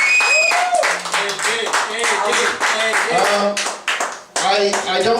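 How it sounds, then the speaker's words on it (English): Applause at a live stage show, a crowd clapping in quick bursts with voices cutting through close up, the clapping dipping briefly twice before picking up again. "Give him a round of applause, ladies and gentlemen."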